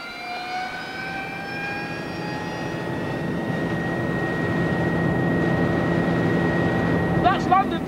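A helicopter flying east over London along the River Thames: a loud, steady turbine whine and rotor drone with sustained tonal lines, continuous and close, growing slightly louder, with a voice speaking over it near the end.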